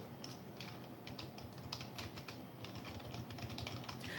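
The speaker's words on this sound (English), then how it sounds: "I'm gonna type it in real quick." Quick keystrokes from a search being typed on a computer keyboard, a steady patter of close, fairly quiet clicks running throughout with no voices.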